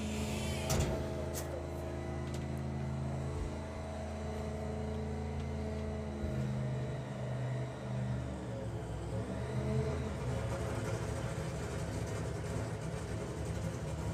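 Venom 1970.5 Camaro drag racing car at Santa Pod Raceway, a loud continuous engine roar with deep rumbling tones sustained throughout, heavy and close with no talk over it.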